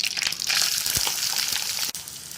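Chopped medium-size onion with curry leaves sautéing in a pan for a brinjal coconut masala, a steady close sizzle with a few soft stirring scrapes and one short clatter.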